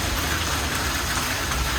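Steady rain pours down on a shop in heavy, splashing sheets, a dense, even hiss that runs without a break and with no voices.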